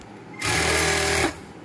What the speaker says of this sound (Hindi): मोटर मक्खन जैसे मशीन चल रही है।